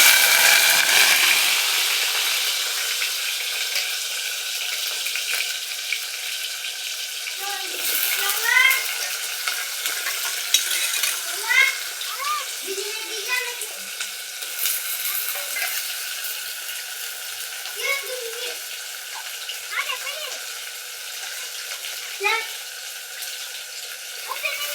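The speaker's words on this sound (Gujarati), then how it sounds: "आपणुं तेल थई गयुं छे गरम अने हवे नाखी देशुं રીંગણા बटेका" Brinjal and potatoes hiss and sizzle in hot oil in a stovetop pot, a steady broadband frying noise with scattered clinks and scrapes of a spoon stirring, close and fairly loud, with no talk.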